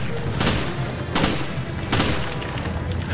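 Loud, sustained gunfire in the survival horror game Resident Evil Revelations, heavy repeated shots with a few stronger blasts standing out over a constant roar of firing.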